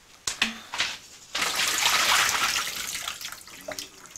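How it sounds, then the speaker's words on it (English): Soaked wood ear mushrooms drained in a kitchen while cooking Malaysian pork belly, a few clattering knocks giving way to a steady rushing pour of water that trails off into light drips, close and moderately loud. "Then for your wood ear, you drain it."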